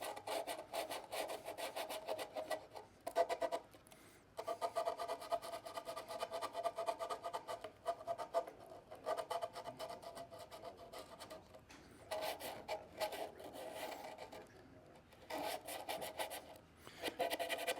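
Folded 120-grit sandpaper rubs back and forth over a wooden yarn bowl, a steady dry rasping in repeated strokes with brief pauses, close and fairly quiet.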